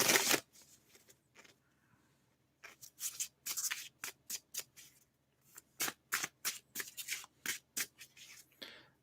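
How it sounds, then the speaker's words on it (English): Tarot cards being shuffled by hand during a live reading, a run of crisp riffling bursts repeating in a quick irregular rhythm, close and clear, with brief pauses between shuffles and no talking. "I have cards to shuffle and I have cards to read."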